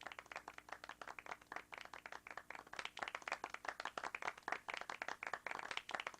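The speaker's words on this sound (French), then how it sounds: "j'aimerais qu'on offre une dernière main d'applaudissements pour les excellentes prestations" An audience at a Three Minute Thesis (Ma thèse en 180 secondes) competition applauds the candidates, dense steady clapping from many hands that swells slightly, heard from a distance and quite faint.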